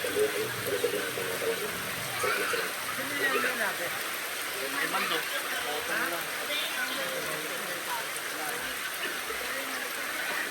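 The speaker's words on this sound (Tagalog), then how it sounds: "Lakas na ng ulan." Steady broadband rain hiss throughout, with voices talking and murmuring underneath the downpour.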